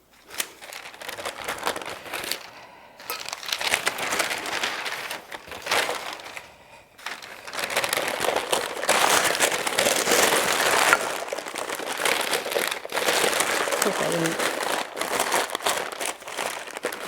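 Packing paper crumples and crinkles steadily as kitchen items are wrapped, a dense, close rustling with a few brief pauses and no talking.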